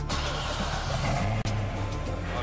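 A Chevrolet Corvette ZR1 engine fires for the first time at the end of the assembly line, settling into a steady, close idle rumble with one brief dropout partway through.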